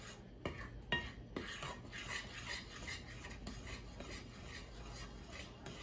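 Flour is stirred slowly into the wet ingredients for a vintage 1950s Hawaiian banana bread, a spoon scraping and knocking around a bowl in a steady rhythm, with a few sharper clinks near the start.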